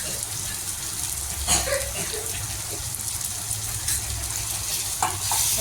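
Turmeric, ground coriander-cumin and chili powder fry in a pan for begun bharta, a continuous close sizzle broken by scraping stirs of a spoon.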